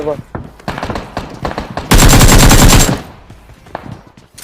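AKM rifle fire in the BGMI (PUBG) battle royale game: a loud, sustained burst of rapid automatic gunfire lasting about a second, framed by game sounds and a voice talking before and after.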